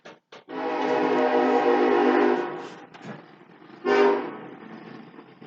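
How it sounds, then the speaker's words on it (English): A loud train horn blares in a long sustained blast, breaks off, then sounds again in a shorter burst as the train passes nearby. "Excuse the train."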